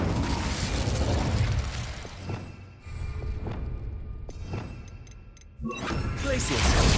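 In Hogwarts Legacy, the Incendio fire spell goes off in loud whooshing bursts and pops, mixed with mechanical game clatter and a brief spoken voice.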